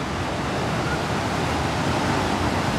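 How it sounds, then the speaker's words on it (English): Ocean waves crash against an eroded coastline along Australia's Great Ocean Road, a constant, loud roar of surf and spray mixed with wind noise, with no distinct breaks. "See where the waves are crashing?"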